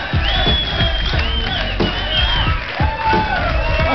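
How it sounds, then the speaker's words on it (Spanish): A talk show studio audience cheers, whoops and shouts loudly and continuously, a rowdy close-up crowd noise with voices mixed in. "Un aplauso para Katy, que venga adelante."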